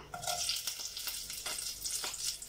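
Mustard seeds and chillies frying in hot oil for tomato rice, giving a bright hissing crackle with bursts of spattering and stirring scrapes, fairly soft and close.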